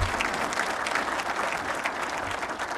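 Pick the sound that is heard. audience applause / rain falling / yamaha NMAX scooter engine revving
audience applause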